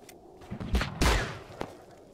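Glock pistol shots in the battle royale game TABG, a few sharp separate bangs spaced irregularly, the loudest pair near the middle, moderately loud over a quiet background.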